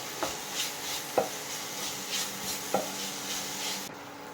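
Onions with ginger garlic paste being stirred in a pan for a Kerala fish dish, soft scraping strokes with a few sharp utensil knocks against the pan over a faint sizzle, moderately close.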